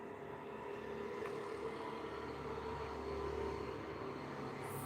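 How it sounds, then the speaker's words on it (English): Motorcycles passing by outdoors, a steady low engine drone heard at moderate distance, continuous and fairly faint with no talking. "Fucking motorcycles"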